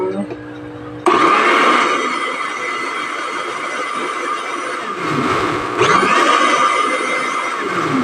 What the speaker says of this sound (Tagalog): Okay, guys, blender na natin.